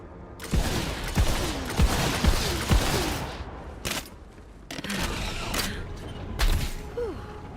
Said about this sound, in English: get the catapult ready. Aim it and crank it